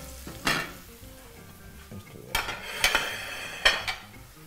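Garlic fries in a modest amount of oil in a pan for pork cheek with pepper sauce, giving a steady soft sizzle broken by several sharper spikes of stirring and spatter.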